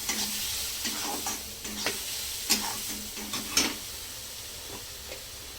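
Crushed peanut powder sautés in a pan for capsicum bhaji, a steady low sizzle under repeated light scraping stirs, a few sharper clicks of the spoon midway, close and moderately quiet, no voices.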